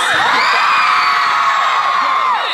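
A convention crowd at VidCon cheers loudly, a dense roar of high whoops, shrieks and yells sustained close throughout.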